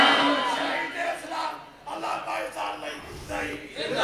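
Rally crowd chanting a religious slogan (naara) in unison, a loud massed roar of voices rising and falling in several waves, with a brief dip near the middle before the chant surges again.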